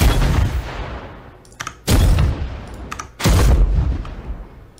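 Spear throws in the video game Warframe set off heavy booming explosions, two loud blasts a second or so apart, each decaying into a rumbling tail, with no talk.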